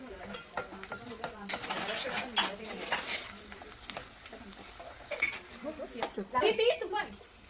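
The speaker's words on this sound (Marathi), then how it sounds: "आपण आता कांदा थोडासा गोल्डन ब्राऊन होईपर्यंत आपल्याला परतवून घ्यायचा आहे" Chopped onion stirred in a pan until golden brown for misal, with clattering utensil scrapes against the pan over a light sizzle while people talk nearby.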